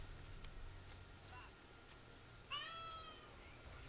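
A cat gives a single short meow partway through, faint against a quiet, hissy background.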